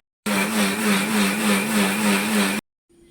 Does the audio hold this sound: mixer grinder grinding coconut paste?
yes